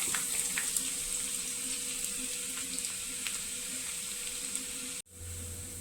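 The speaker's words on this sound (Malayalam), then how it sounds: "വെളിച്ചെണ്ണ ചൂടായി നമുക്കിതിലേക്ക് ഉള്ളി അരിഞ്ഞ് ചേർത്ത് കൊടുക്കാം" Chopped onions sizzle steadily in hot coconut oil for a fish curry tempering, a close, continuous hiss that cuts off abruptly near the end before a lower hum resumes.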